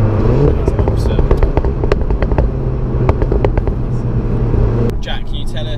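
A Volkswagen Golf GTI Clubsport S engine drones loud and steady from inside the cabin, with clicks and clatter over it and a shift in tone near the end.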